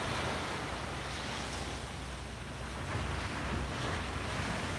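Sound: ocean waves and surf

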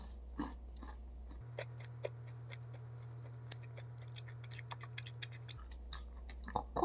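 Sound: chewing a bite of a rice syrup snack

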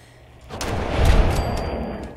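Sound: explosion and gunfire in video game Fallout 4

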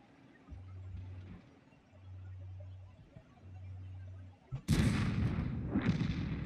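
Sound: tank gun shots in World of Tanks video game

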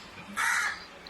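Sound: crow cawing

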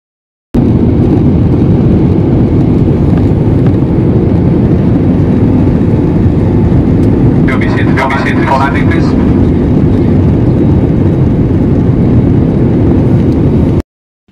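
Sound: airplane landing, cabin engine noise

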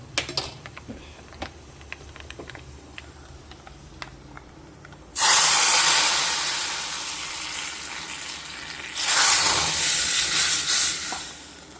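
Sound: hot tempering sizzling as it is poured into mango dal

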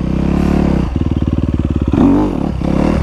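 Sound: Honda CRF250R dirt bike engine during slow wheelies

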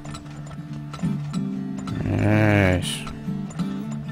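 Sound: horse hooves clip-clop in Turmoil video game

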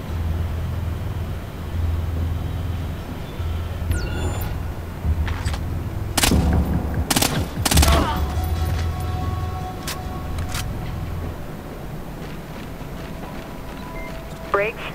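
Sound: gunfire from the video game Splinter Cell Blacklist

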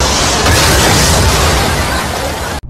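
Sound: bomb explosion

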